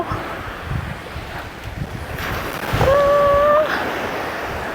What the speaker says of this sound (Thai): บ้านก็อยู่แบบริมทะเลเลยนะคะ อันนี้ก็ติดชายหาดเลย